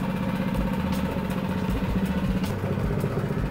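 An old motor drives a bakery dough mixer loaded with yeast, salt and sugar, humming and clattering at a steady idle-like pitch, close and continuous without pause.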